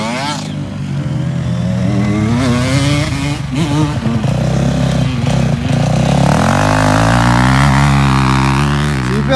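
A motorcycle rides through a bend on a grassy meadow practice track. The engine drones steadily and loudly close by, its pitch shifting as the rider leans through the curve and accelerates, with a person talking over it.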